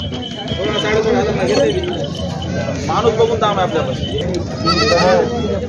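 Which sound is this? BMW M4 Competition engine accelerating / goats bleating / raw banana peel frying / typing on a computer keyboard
goats bleating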